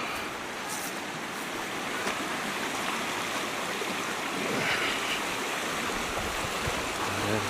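Creek water rushing steadily over rocks as the stream splits into several channels among trees, a dense continuous broadband wash that stays close and loud throughout, with no talking.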